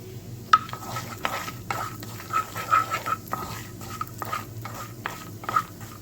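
A spoon stirs a butter, walnut and red pepper sauce in a pan with soft scraping strokes and repeated light clinks against the metal, over a faint sizzle.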